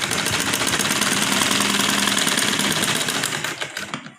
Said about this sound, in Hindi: 1/2 इंच पर इस तरह सिलाई लगाते हुए लेके आएंगे।